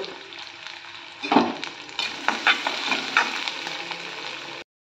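Sliced onion and green chili sautéing in a pan for ragi semiya, a close sizzle broken by several louder scraping stirs in the second half, with no voices.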